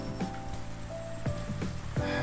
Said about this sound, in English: So it's raining now.